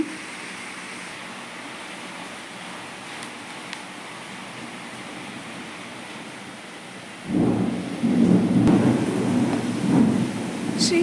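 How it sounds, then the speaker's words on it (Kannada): Steady heavy rain hisses throughout, then a deep roll of thunder rumbles in and lingers over the downpour toward the end. "ಇಲ್ಲೂ ಕೂಡ ಜೋರಾಗಿ ಮಳೆ ಬರ್ತಾ ಇದೆ"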